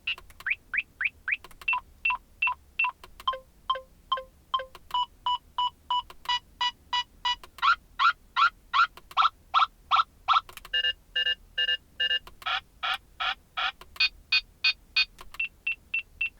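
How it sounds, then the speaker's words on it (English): Uniden R8 radar detector cycling through its alert tones for X, K and Ka bands and photo radar systems, rapid series of electronic beeps in changing pitches and rhythms, clear and alone. "there's 12 different alert tones that you've got for, X, K, KA, as well as the different photo radar systems"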